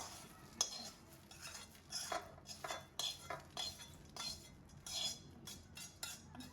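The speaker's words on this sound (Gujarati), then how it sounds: "હવે આપણે સાણસીની મદદથી આ મમરાને આપણે કાથરોટમાં એડ કરી દઈશું" Metal tongs scraping and clinking against a pan as puffed rice (mamra) is transferred into a large bowl for panipuri-flavoured sev mamra, a steady run of light rustling scoops and soft metallic taps, close and fairly quiet.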